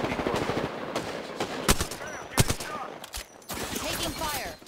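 Gunfire in the video game Apex Legends: several bursts of automatic shots and sharp single cracks crowd close together, loud and busy, mixed with faint in-game voices and effects.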